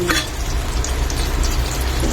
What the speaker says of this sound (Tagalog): biglang bumagsak ang ulan